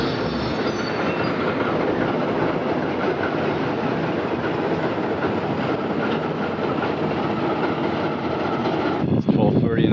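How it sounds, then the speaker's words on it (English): Train cars rumble aboard a ferry bound from Russia to Japan, a steady loud rolling of wheels and rail noise with occasional squeals, continuous throughout before a brief clunk near the end. "What do you know? Trains on a boat."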